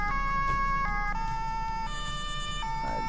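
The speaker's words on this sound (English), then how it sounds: "let me do something about these sirens" A wailing two-tone police car siren in a video game alternates pitch in a steady pattern, clear and fairly close, over a low rumble of engine noise.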